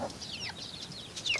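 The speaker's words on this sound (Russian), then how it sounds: "Вот тут куры ждут." Chickens cluck softly while waiting to be fed chopped, salted cabbage, a few short faint calls at moderate distance over a quiet background, the last one slightly louder.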